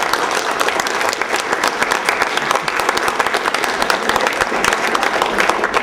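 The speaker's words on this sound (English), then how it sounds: "we all give a very loud clap" A lecture audience breaks into loud, sustained applause at the close of a talk, dense clapping filling the whole stretch evenly without pause.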